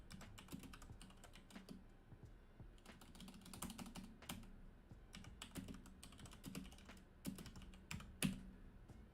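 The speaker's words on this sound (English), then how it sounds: "sorry, almost done typing." Fast, uneven typing on a computer keyboard, with close, crisp key clicks running in bursts throughout and a few heavier key strikes near the end, with no voices.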